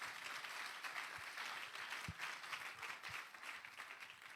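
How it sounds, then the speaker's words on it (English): Audience clapping in a room during a Wisdom Room event, fairly quiet and continuous, with a few louder individual claps standing out. "Can we clap for all of them?"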